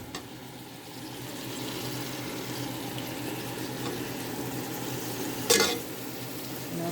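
Kale sautéing and cooking down in a pan, a soft continuous sizzle and hiss with one brief clatter of stirring partway through, steady and fairly quiet.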